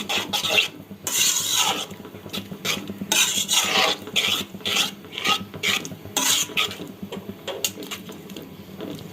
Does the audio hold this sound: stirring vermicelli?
yes